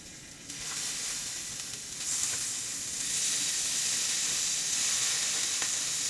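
Beef searing in a hot skillet, a steady loud sizzle with occasional pops that builds slightly and continues without talking.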